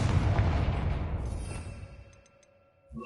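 A Confringo fire-blast spell in Hogwarts Legacy erupts as a loud, rumbling explosive burst that fades over about two seconds, leaving a quiet tail with faint chimes and a small thump at the end.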